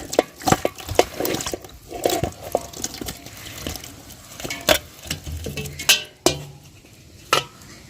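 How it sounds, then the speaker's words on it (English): Pineapple pieces tumbling into a saucepan for a pineapple-ginger drink in an African village kitchen, a run of close, uneven clunks and soft wet thuds against the metal pan, with a few sharper knocks near the end. "In our saucepan, I'll go ahead and add our pineapples."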